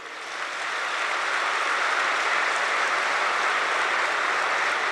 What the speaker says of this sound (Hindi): अपने लिए सब ताली बजाइए जोर से